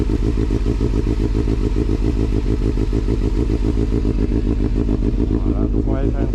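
A Honda CBF 600 N inline four-cylinder motorcycle engine idles and revs up close, loud and continuous throughout, with a steady throbbing pulse and rising throttle blips near the end.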